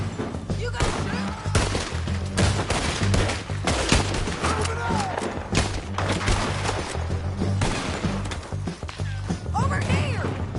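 A dense, rapid barrage of close gunshots in the video game Red Dead Redemption 2, with cracks and impacts overlapping almost without pause and voices heard now and then beneath.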